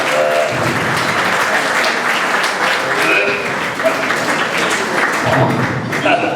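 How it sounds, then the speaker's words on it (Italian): A crowd at an outdoor folk festival applauds a performer, sustained loud clapping filling the space, with voices and cheering mixed in throughout. "Un applauso a Vito Cataro"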